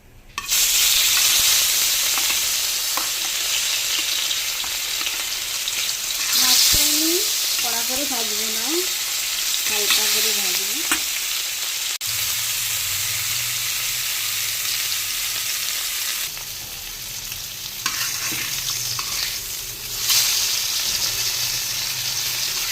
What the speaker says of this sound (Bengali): মাছটা হয়ে গেছে এখন মাছটা ভাজবো